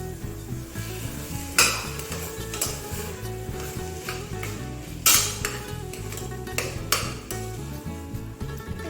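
Onions frying in a pan with ginger-garlic paste and chopped tomatoes for Kerala erachi choru, a continuous sizzle under repeated scraping of a spatula and occasional sharp clinks against the pan, close and without speech.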